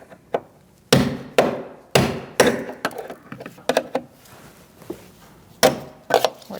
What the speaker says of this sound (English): Now I'm just going to use my cold chisel and cut the head off,